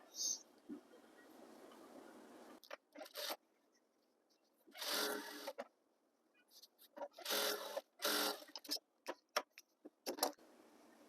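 A sewing machine stitches school uniform fabric in intermittent bursts of varying length separated by quiet pauses, close and fairly loud, with faint talk near the start.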